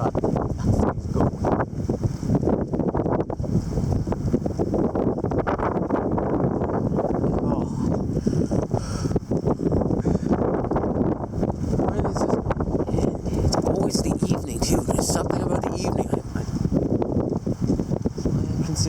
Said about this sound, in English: We see that strongest gust of the day